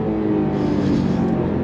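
A 2024 Porsche 911 Carrera T engine pulls hard under throttle, producing a loud, steady, harmonic-rich roar that holds throughout the short burst.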